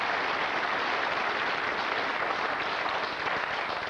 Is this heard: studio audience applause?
yes